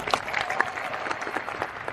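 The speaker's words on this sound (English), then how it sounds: "By show of clapping, how many people is it your first VeeCon? Clap it up." A conference audience at VeeCon 2023 claps on cue, a loose scatter of individual hand claps with some crowd murmur, brief and moderately close.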